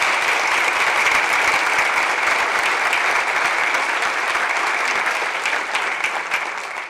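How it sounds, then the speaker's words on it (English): Loud, dense audience applause at the 2014 DCEDC annual meeting luncheon, many hands clapping steadily for nearly seven seconds before tapering off slightly at the end, with no talking over it. "let's give Nancy a round of applause for a phenomenal lunch"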